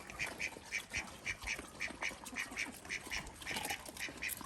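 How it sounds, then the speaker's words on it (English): Ducklings quacking on a farm where chickens also roam, a steady run of short, repeated calls with a rhythmic pulse, fairly close, set against a busy outdoor background with no talking. "Little ducklings."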